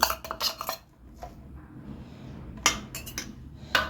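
A boiled potato is mashed in a mixing bowl with a fork-style spoon, giving close, sharp clinks and scrapes in quick clusters separated by brief pauses.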